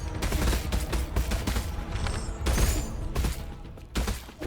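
Homing shots fired in the game Nine Sols, a rapid, loud string of sharp blasts in quick irregular bursts with impacts, close and continuous with no talk.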